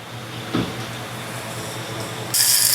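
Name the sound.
blender running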